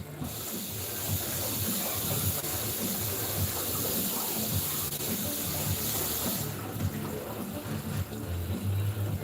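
Cold tap water runs steadily over a hot boiled egg at a kitchen sink, a continuous hissing splash that carries on for the whole stretch and shifts slightly in tone near the end.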